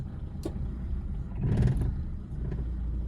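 Car engine running while a learner driver releases the clutch, a low steady idle rumble that swells briefly in the middle as the load changes, then settles back, close and moderately loud.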